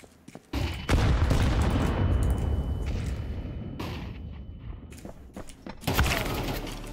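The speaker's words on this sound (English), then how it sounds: "Flashbang." A flashbang bursts in a CS2 match amid gunfire, with a loud booming blast and ringing tail, then more shots and thuds, one heavy burst near the end.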